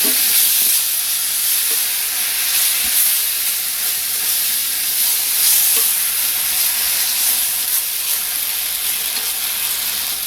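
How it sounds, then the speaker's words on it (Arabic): A flour roux cooks in a pan over low heat while milk is added slowly for cheddar mac and cheese. A constant close hiss and sizzle runs throughout, with faint stirring scrapes and no talk. "واشوحه لمدة دقيقة واحدة. بعد كده هدي النار خالص وابتدي اضيف اللبن بشويش"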